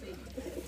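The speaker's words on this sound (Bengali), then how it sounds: "মাশাআল্লাহ কবুতর।" A brief, soft cooing of pigeons kept for sale in a loft, with a low, throaty rolling call heard close by over faint background noise.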